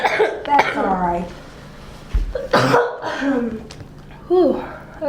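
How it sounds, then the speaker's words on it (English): A person coughs several times in short, throaty bursts close to the mic, with speech-like vocal sounds mixed between the coughs. "I think I'm done coughing now."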